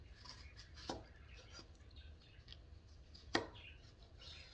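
A knife slices zucchini pieces on a cutting board, two quiet isolated chops against a faint background.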